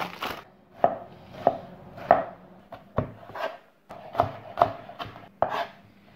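A knife chops cabbage on a board in a series of sharp, close, irregularly spaced thuds, roughly a dozen strikes with short pauses between them.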